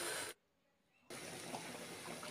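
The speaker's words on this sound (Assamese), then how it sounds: "এতিয়া পানী দি দিলোঁ।" Water gushes into a cooking pot for a bottle gourd and tomato fish curry. The pour runs briefly, stops for a moment, then resumes as a steady, fairly loud gush.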